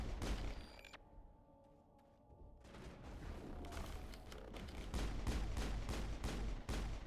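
Pistol fire from the Mass Effect game rings out as a rapid string of sharp shots, heavier and denser toward the end, with a brief quiet stretch near the start.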